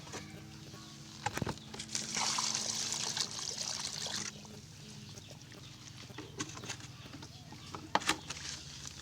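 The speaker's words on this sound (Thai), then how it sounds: "เสร็จแล้วเราก็เติมน้ำใส" Water is poured onto semi-clay bamboo soil packed into a car-tyre planter, a soft splashing trickle lasting about two seconds among quiet outdoor background sounds.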